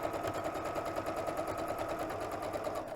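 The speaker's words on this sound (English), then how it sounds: "Put the presser foot down. And start sewing." A sewing machine stitches a pillowcase for a throw pillow in a fast, even mechanical chatter, close and steady for three seconds with no talk.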